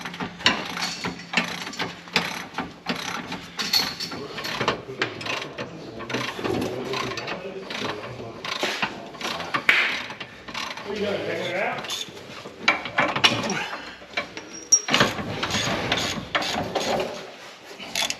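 A 21 millimeter socket turns the shock bolts off a 2015-2020 Yukon or Tahoe truck, giving dense, rapid ratchet clicking and metallic tool rattles in close, busy bursts throughout.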